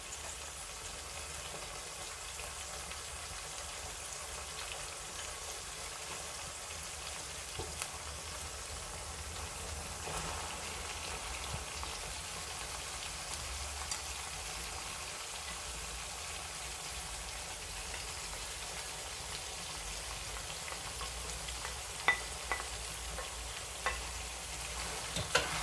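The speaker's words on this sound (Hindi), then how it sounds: "अब प्याज और कीमे को अच्छी तरह मिक्स कर लेंगे।" Minced meat (keema) and onion frying together in a pan while being stirred, for stuffed bitter gourd: a soft, steady sizzle with a few faint spatula clicks toward the end.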